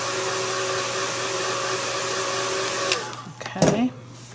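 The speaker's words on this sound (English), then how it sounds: "now I'm going to shoot her real quick with the dryer" A hair dryer blows a steady, loud whine onto a wet painting of a face, then switches off and spins down near the end, followed by a brief handling clatter.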